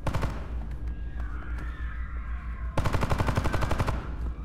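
Automatic gunfire from an extraction shooter game, with a spaced volley early on, then a sharp, fast rapid-fire burst near the end that rattles loud and close.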